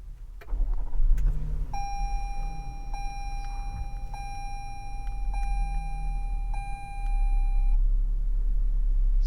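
A 2022 Toyota Highlander XLE is started by push button: a soft engine turnover and idle rumble set under a steady series of chimes from the cabin.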